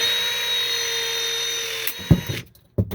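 Milwaukee Force Logic 6T linear utility crimper working through wire, with a loud, steady motorized whine that holds for about two seconds, then stops abruptly, followed by a couple of sharp mechanical clunks.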